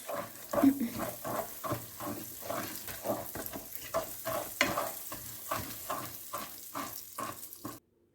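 Butter or margarine melting into caramelized sugar in a pan for a chocolate caramel tart cake, with steady rhythmic stirring strokes and a soft sizzle running throughout, close up and with no talking.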